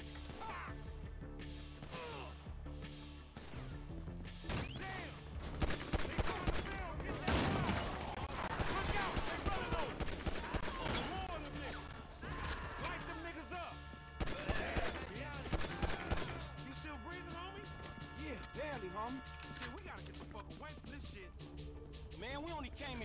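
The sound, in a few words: gunfire in video game Grand Theft Auto V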